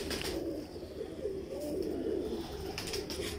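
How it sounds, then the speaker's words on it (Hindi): Lal Pari pigeon cooing in a low, continuous murmur, fairly close and steady throughout, with no voices. "बड़ा खूबसूरत, बड़ा शानदार कबूतर।"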